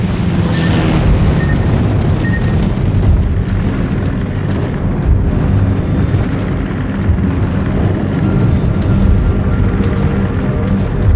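Torpedo strikes on a warship in World of Warships, heavy rumbling booms and explosive blasts rolling continuously and loud for several seconds, with no voices over them.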